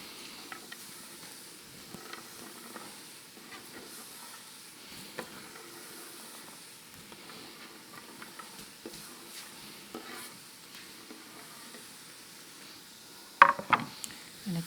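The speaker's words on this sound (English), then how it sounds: "And again, we're going to stir that." Quebec-style yellow split pea soup stirred in a pot, a faint low sizzle and hiss with scattered soft scrapes, ending in a few louder clanks of the spoon against the pot.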